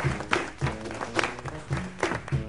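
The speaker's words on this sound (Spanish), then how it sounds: "El aplauso, señores, vamos" Audience applause at a live comedy and poetry show, dense overlapping claps in uneven bursts filling the room, fairly loud and close, with no voices on top.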